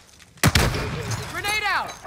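A sharp, loud bang in Call of Duty: Modern Warfare as a stun grenade goes off, followed by a ringing decay while a voice calls out over it.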